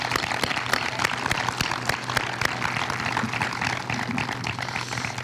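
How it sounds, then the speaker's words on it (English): A crowd claps steadily at the Waco High School groundbreaking ceremony in 2022: a sustained, even round of many hands heard from a moderate distance, with no talking over it. "Let's give him a round of applause."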